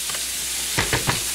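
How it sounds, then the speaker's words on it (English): Venison searing in a hot pan, a steady close hiss of sizzling with three quick bursts of louder spatter and scraping near the end. "just trying to sear that"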